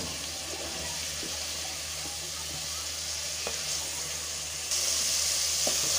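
Mutton liver cooks in water in a pot, giving off a steady low bubbling hiss, close and fairly quiet, with a few faint clinks and no clear voices.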